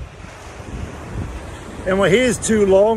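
Wind at the beach buffets a microphone with a rumbling low roar that swells louder partway through, while someone speaks over it.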